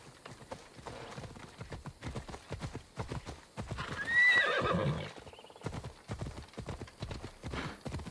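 Horse hooves clip-clop in a steady rapid rhythm in Assassin's Creed Odyssey, with a whinny partway through, heard fairly faint without talk.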